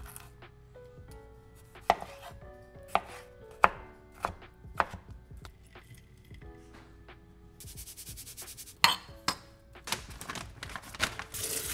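An onion being chopped on a cutting board with a knife, a run of crisp irregular thuds, some sharper and louder, close and clear with nothing else behind them.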